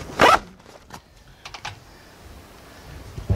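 A zipper on a grow tent is pulled in one quick, close zip, followed by faint rustling and soft handling noises.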